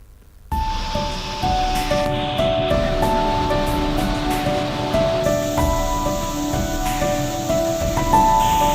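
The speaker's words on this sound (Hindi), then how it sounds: "मंदिर और ठीक बगल से गिरता यह झरना" A natural waterfall pours right beside the Kedareshwar Mahadev temple in Sailana, Ratlam, a loud, continuous rushing roar that starts abruptly and holds steady, with faint tonal background sounds layered over it.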